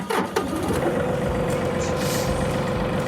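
A tractor engine cranks and catches after an attempt to restart it, settling into a loud, steady rumbling idle close by with a brief hiss early on.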